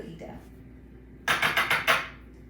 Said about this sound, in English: I like to crack my eggs into a separate bowl